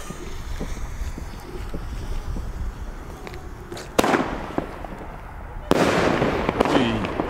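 A 16-shot 30 mm firework battery crackles and booms outdoors over steady wind noise, with two sharp bursts standing out, the second launching a dense, sustained volley of crackling.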